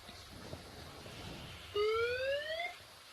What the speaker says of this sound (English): every day on the ship they do a test of the alarms on board just to make sure everything's working in case there is an emergency